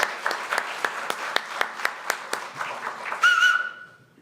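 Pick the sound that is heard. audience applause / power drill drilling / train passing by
audience applause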